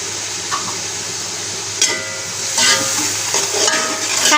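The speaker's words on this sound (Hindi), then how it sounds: "सारे मसाले को थोड़ा सा भून लेंगे" Ground spices such as red chili powder, salt and biryani masala roasting in a pan for an achari aloo chana pulao, a steady broadband sizzle with a few brief stirring scrapes, close and alone.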